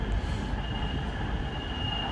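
A train pulls out of Crewe station with a loud, close, continuous rumble and a thin sustained wheel squeal riding above it, with no talk.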